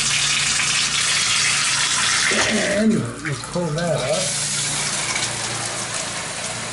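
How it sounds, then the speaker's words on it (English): Shower turned all the way up to high pressure in a tiled bathroom, a steady broadband rush of water running throughout, with someone talking briefly over it partway through. "And you can see we've got really good water pressure."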